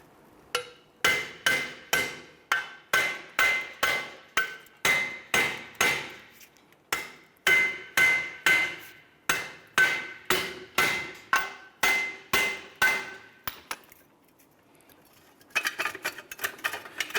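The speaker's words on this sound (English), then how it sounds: "I'm going to use my hammer and I'm going to strike these here" Hammer blows striking bolts to drive a wheel hub out of the steering knuckle on a 2011-2018 Ram 1500, a fast steady series of loud metallic clanks, pausing briefly before a few more strikes.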